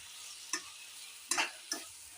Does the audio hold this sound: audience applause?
no